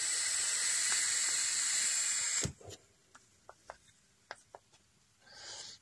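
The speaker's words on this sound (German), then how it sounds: "Ich dampfe mal, damit ihr seht, dass er jetzt funktioniert." A homemade dripper atomizer on a homemade e-cigarette mod gives a steady close hiss of vapor for about two seconds. Quiet clicks and small handling ticks follow, then a brief second hiss at the end.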